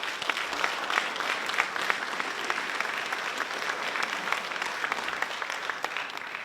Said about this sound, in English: you need to give yourself a round of applause for that